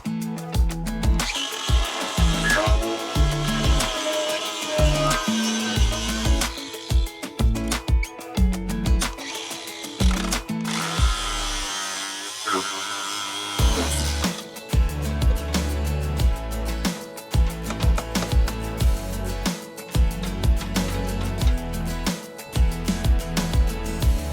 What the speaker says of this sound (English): Now we're gonna drill up.